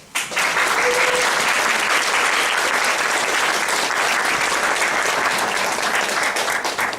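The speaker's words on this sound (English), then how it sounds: "Now, please welcome keynote speaker Mr. Ben Nelson with a big applause" Sustained audience applause welcoming a keynote speaker at a lecture, a dense, even roar of many people clapping that holds loud and steady for several seconds.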